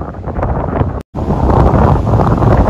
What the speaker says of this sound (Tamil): அந்த பக்கம்லாம் காற்று சூறாவளி மாதிரி அடிக்குது